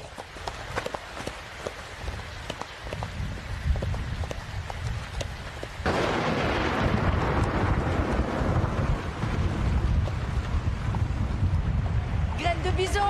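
Storm ambience in an animated children's cartoon: a steady roar of wind and rain that thickens and grows louder halfway through, with faint voices and music mixed in underneath.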